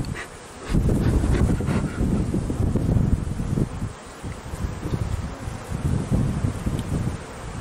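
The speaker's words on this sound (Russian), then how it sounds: "Ветер какой-то сегодня." Wind blows steadily across an outdoor apiary, rumbling and buffeting the microphone in continuous gusts with a brief lull near the start, while bees buzz faintly underneath.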